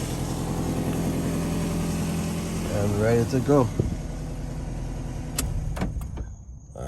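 A Toyota RAV4 engine idles steadily, then cranks with a rising starter whine and catches, followed by a few sharp clicks before quieting; someone speaks briefly over it.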